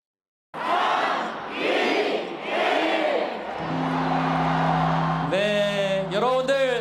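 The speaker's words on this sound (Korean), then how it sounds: "제야의 종소리가 울리자 시민들이 환호합니다." A large crowd roars and cheers at the New Year's bell-ringing ceremony at Bosingak pavilion in Jongno, Seoul. The loud, sustained crowd noise is later joined by a steady ringing tone and brighter shouts.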